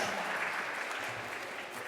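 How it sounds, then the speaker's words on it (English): Applause for a team after its pitch at a competition event; dense, continuous clapping from an audience, fairly loud and even throughout the short stretch. "Round of applause."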